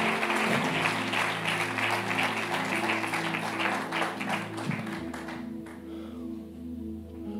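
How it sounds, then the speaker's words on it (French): A church congregation applauds in a dense, steady clatter of many hands, running on under a low sustained organ or keyboard drone that shifts pitch partway through. "Acclame bien, acclame bien."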